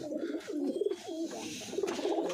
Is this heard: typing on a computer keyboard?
no